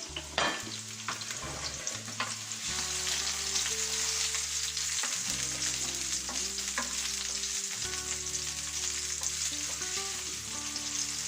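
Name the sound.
onions and chorizo frying in hot oil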